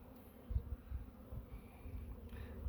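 Honey bees buzz around a hive, a faint, steady low drone with small swells in loudness and no voices.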